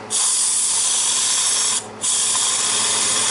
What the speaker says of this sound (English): Let's see if we can get this thing to release the steam